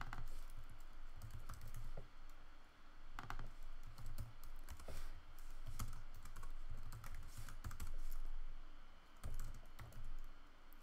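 Code is typed on a computer keyboard in a steady, close run of key clicks with brief pauses, and no voice over it.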